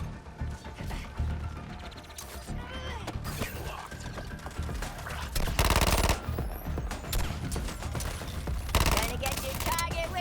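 Rapid bursts of gunfire ring out in the video game Suicide Squad: Kill the Justice League, with dense loud volleys around the middle and near the end over mechanical clatter and background game noise.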